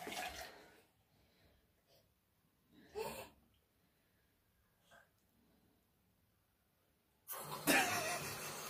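Water gushing from a tap in a home, loud hissing bursts at the start and again at the end, with quiet gaps between them where faint coughs and brief sounds can be heard.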